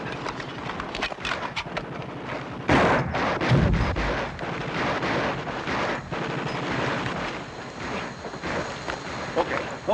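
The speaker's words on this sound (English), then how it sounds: "Bill, fire a smoke grenade out there to cover us." Smoke grenade fired in a 1971 war drama film, a loud burst around the three-second mark amid battlefield gunfire and wind, with voices speaking over the scene.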